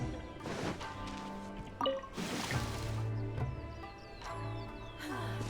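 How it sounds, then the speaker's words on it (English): Trees being watered in Genshin Impact: soft splashing and dripping water sounds over a steady game music bed, with small squishy impacts and chimes. "we should water the trees"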